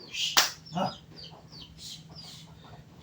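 A hen ready to lay eggs clucks a few short, scattered times, close by, with quiet pauses in between.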